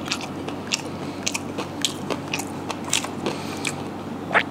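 Crispy fried chicken is bitten and chewed up close, giving a series of crunchy crackles spread irregularly over a few seconds against a quiet room background.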